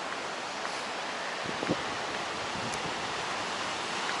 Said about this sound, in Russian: просто вот такой ветер реально, что даже руки мерзнут